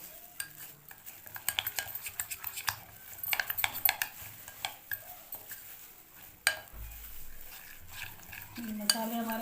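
Spice masala for chargha chicken is stirred in a bowl, a spoon scraping and clinking irregularly against the sides at close range, with quiet pauses between bursts of mixing.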